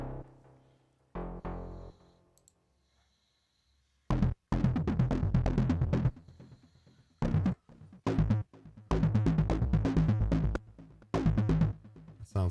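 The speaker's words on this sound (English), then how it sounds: "This right here is playing the init patch, which is just like a big fat saw wave." A buzzy synthesizer saw wave init patch plays in bursts, with short and longer held notes separated by pauses, bright and harmonically rich.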